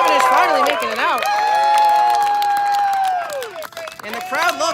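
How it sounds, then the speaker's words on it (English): A crowd cheers and applauds at a beep baseball game between the Boston Renegades and Philly Fire, loud sustained roar with a long steady tone over it, then scattered clapping and voices. "And the crowd loves that as we finally have 1 out in the inning."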